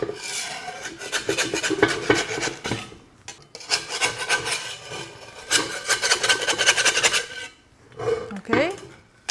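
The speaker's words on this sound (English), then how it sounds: "I take a scraper and just push slowly like this." A metal scraper rasps steadily against a pan to push loose homemade sourdough tandoori bread, giving long grinding strokes in three bursts with short pauses between them.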